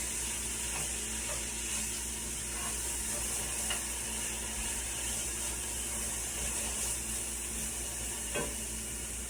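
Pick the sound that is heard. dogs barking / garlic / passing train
garlic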